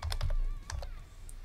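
Rapid keystrokes on a computer keyboard as a short category name is entered into a web admin form, a quick burst of close, crisp clicks, a brief pause, then a few more taps.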